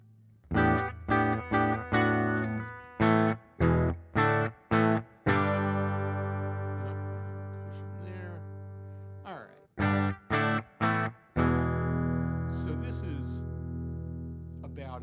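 Clean electric guitar playing choppy chords then sustained ringing notes, with a touch of reverb tail and no distortion, a dry signal with everything dialed out except reverb, played up close and alone.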